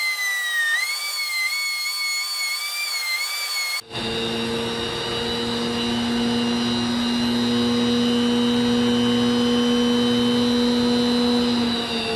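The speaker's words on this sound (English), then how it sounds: "Never underestimate that buffing wheel on that 3-inch" A 3-inch Harbor Freight bench grinder spins a buffing wheel against a rusty, cracked old axe head, kicking in abruptly with a steady, loud motor whine and hum that holds to the end after a brief thin tone.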